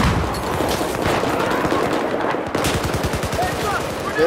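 Battlefield 4 gunfire rattles on continuously in a loud, rapid automatic stream of shots for the whole stretch, dense and close, with no break.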